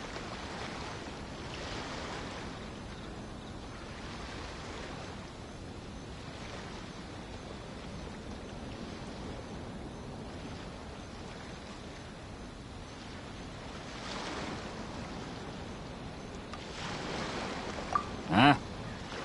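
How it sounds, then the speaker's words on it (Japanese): Ocean waves in a video game wash in and recede in slow, broad surges over a steady windy hiss, with a brief sharp sound near the end. "波の音か。"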